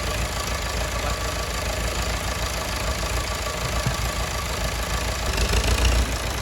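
An old David Brown Cropmaster tractor, some seventy years old, runs with a steady, rough engine drone that holds level throughout and swells slightly louder near the end, with no voices over it.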